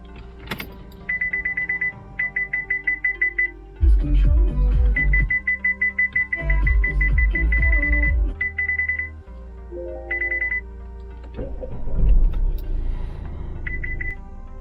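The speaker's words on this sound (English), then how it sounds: "Let me turn off the parking sensors because they are pretty annoying" Rapid electronic parking sensor beeps repeat in short bursts, fairly loud, over an Opel Insignia 2.0 CDTI OPC's idling hum with some mechanical clunks and whirs.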